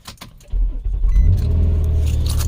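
Keys jangle briefly before the 3.5-litre engine of a 2007 Nissan Murano cranks and catches, then settles into a loud, steady idle close by.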